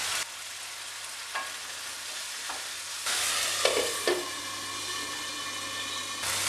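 Okra masala being stirred and sautéed in a pan, with a steady broadband sizzle throughout and a few scraping stirs, growing slightly louder partway through; no talking.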